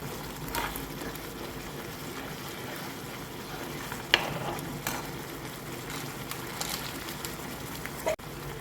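Kashmiri chili powder being stirred into a simmering egg curry, with a soft steady sizzle and faint scraping throughout and a couple of brief clinks near the pan.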